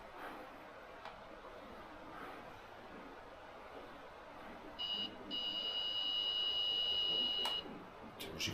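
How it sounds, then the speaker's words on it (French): Ghost Radar device in a haunted isolated-house video game gives a steady electronic beeping tone that starts partway through and holds for a few seconds over a quiet background, clear and fairly close. "Vas-y, déclenche-le le Ghost Radar."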